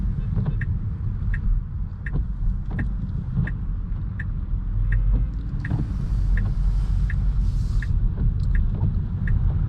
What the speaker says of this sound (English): I do want to give you guys a quick little acceleration demo on getting onto a highway here